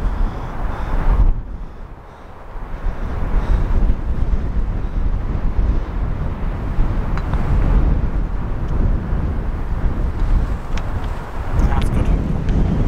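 Gusty wind blows across an open golf course, roaring steadily into the microphone with rising and falling surges, while golfers talk over it.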